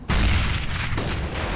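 A grenade blast in the shooter game CS:GO, a loud booming detonation that hits almost at once and rumbles on heavily for over a second, with a second burst of noise near the end.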